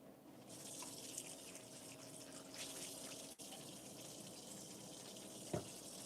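A bowl is rinsed under a running kitchen sink tap, giving a steady, fairly quiet splashing water stream with a faint knock near the end.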